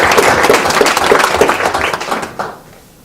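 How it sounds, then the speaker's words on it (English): A banquet crowd at an IAABO dinner breaks into sustained applause, dense overlapping claps filling the room before thinning out and fading away near the end. "so let's give a nice round of applause to Rick Frisbee."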